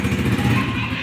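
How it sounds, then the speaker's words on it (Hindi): A bike engine runs steadily and close by, giving a dense, rapid chugging throb that holds loud and even across the whole stretch, with no talk over it. "ये गरीब बाइक चला रहा है"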